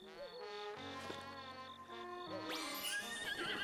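A horse neighs and whinnies in the video game Zelda: Breath of the Wild, one loud, wavering call rising late in the clip over steady, sustained background game music.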